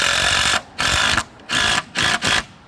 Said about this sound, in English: And here we go, we're going to drive them in.